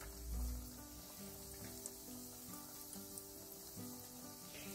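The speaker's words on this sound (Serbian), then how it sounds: "Evo vidite kako se to fino, lepo prži." Flatbread batter fries in a pan with a soft, steady sizzle and faint crackles, quiet and close, with a brief low thump at the start and no talking.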